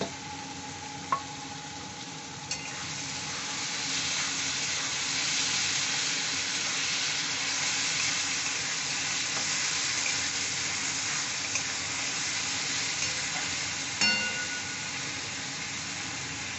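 Tomato and green chilli sizzling steadily in a hot pan with oil, a continuous loud frying hiss with a few faint clinks from stirring.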